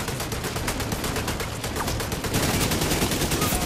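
Rapid enemy gunfire in The Division 2, a continuous dense burst of automatic shots filling the whole stretch, loud and close with no talking.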